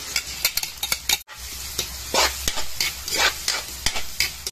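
Onion and garlic sauté in hot oil for baked spaghetti, a close crackling sizzle broken by irregular scraping stir strokes in the pan, with one brief drop-out partway through.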